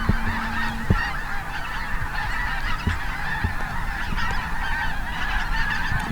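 A dense flock of snow geese honks continuously overhead during a hunt, a steady wash of many overlapping calls at mid distance.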